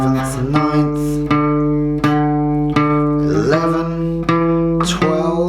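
Single guitar notes from a riff are picked one after another, some sliding between pitches, each sustaining brightly, close and clear with no voice over them.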